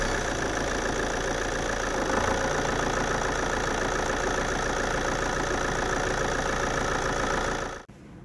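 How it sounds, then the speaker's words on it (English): A car engine runs steadily and loudly during a battery cranking test, holding a constant rough drone close by before cutting off abruptly near the end. "Let's start the engine."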